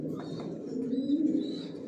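Pigeons coo steadily inside a pigeon loft, a low continuous murmur of overlapping calls, nearby and moderately loud, with faint higher chirps above it.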